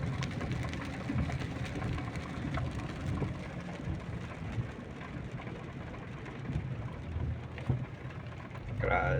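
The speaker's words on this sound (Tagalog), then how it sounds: "Umuulan naman." Steady rain falls outdoors as a soft, continuous patter, with a faint low rumble and occasional voices in the background.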